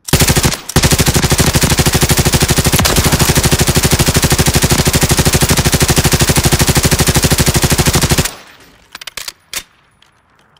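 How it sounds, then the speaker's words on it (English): Call of Duty automatic weapon fire pours out in a long unbroken rapid stream, loud and close, cutting off abruptly after about eight seconds into a few scattered quieter sounds. "That's some heavy artillery if you ask me."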